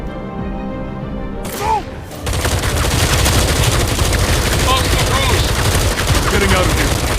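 Rapid gunfire in the video game Batman: Arkham Shadow: dense, loud bursts that begin after a brief quieter stretch and then roll on continuously, with a short startled shout from a voice.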